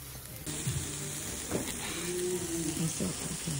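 Alpaca meat sizzling on a hot stove, a steady close frying hiss that kicks in after a brief quiet start and holds to the end, with faint voiced sounds under it.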